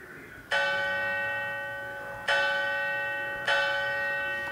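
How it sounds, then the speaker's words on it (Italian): A large church bell from a carillon bell simulator strikes three times, each bright ringing tone starting sharply and decaying slowly, spaced about two seconds apart. "Faccio un esempio col campanone."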